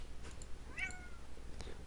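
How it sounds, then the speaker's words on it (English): A cat meows once, a short, faint rising call in a quiet room with steady low background hum. "Ah, this cat's bothering me."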